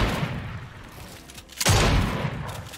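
A single loud pump shotgun blast in Fortnite, a sharp boom with a heavy low thump that rings out and decays over about a second, following quieter game ambience.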